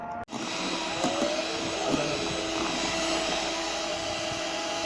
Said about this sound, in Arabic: وبعدين بقى اضربه بالمضرب